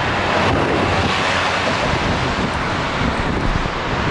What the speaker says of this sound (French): Je pense que vous entendez rien là avec le bruit du vent